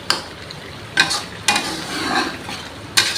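Fish cooking in a pan with kaffir lime leaves, sliced red chili and basil gets stirred, with four sharp utensil scrapes over a steady background sizzle and no speech.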